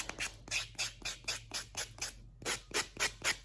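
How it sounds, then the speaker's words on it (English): A buffing block rubs back and forth across a dip powder nail in a steady run of about a dozen short, close scratchy strokes, with a brief pause partway through. "And then I go in with my buffing block, buff it so that it's smoothed out."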